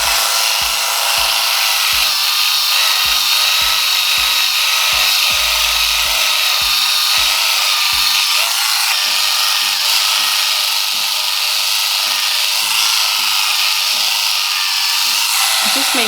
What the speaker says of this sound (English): So I'm gonna epilate it